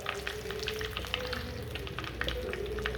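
Curry leaves frying in hot oil with popping mustard seeds, a close steady sizzle dotted with quick crackles and pops over a low background hum.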